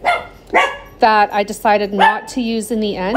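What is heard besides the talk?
dogs barking at things outside the window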